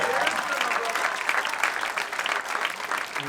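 Crowd at a Black Lives Matter rally in Lewisburg claps steadily, a dense continuous patter of many hands held at an even level throughout, with no voices on top.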